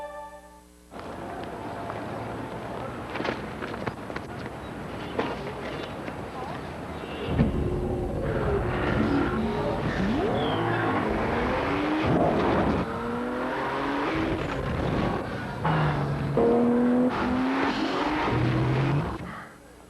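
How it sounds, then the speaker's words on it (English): The engine of a 265-horsepower Nissan Maxima in a TV advert: revving and accelerating, with tire squeal and swelling motor sound that build after a quieter start, while a voice speaks over it. "The 265 horsepower Nissan Maxima."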